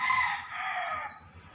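A backyard rooster crows once, long and fairly close, fading out over a low murmur of other chickens.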